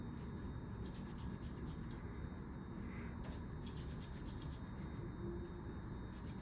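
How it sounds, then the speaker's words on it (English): Hands rub together vigorously to work in hand sanitizer, a steady, close, dry swishing friction that runs evenly throughout with no break. "Or you can use a hand sanitizer, get a good healthy amount, rub vigorously, and let it completely dry before you put on your gloves."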